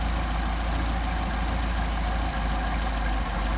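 A car engine idles steadily while its Solex carburetor is adjusted, a continuous close, even drone with only slight dips in speed.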